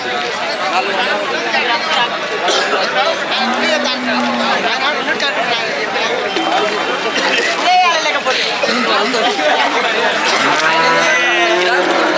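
Holstein Friesian cows moo a few times amid loud crowd chatter and nearby talking at a busy livestock market in Sardar Nagar.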